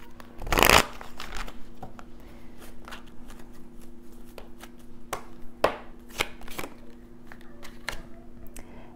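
Tarot cards riffle in one loud burst near the start, followed by several softer isolated flicks and taps of cards over a quiet room hum.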